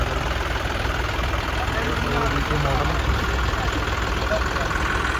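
A John Deere 5210 four-wheel-drive tractor idles with a steady, continuous low engine rumble close by, someone talking over it.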